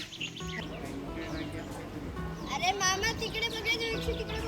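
Many birds chirping and calling inside a huge walk-through zoo aviary holding over a thousand birds, overlapping tweets and whistles at close and middle distance, with people talking nearby underneath.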